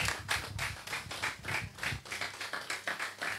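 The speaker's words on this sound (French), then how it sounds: "Et là, vous applaudissez." An audience applauds at a youth press conference, a steady round of clapping that is fairly faint and even throughout, with no talking.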